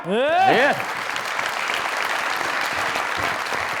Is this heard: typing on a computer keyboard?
no